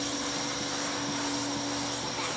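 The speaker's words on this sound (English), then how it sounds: "Now you can use the vacuum cleaner." Loud, steady drone of a vacuum cleaner in a cartoon scene, running continuously at even level with a constant whine and no voices.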